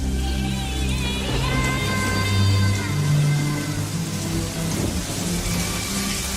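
Steady heavy rain pours down while low rumbles of thunder roll through, with faint tonal sounds underneath.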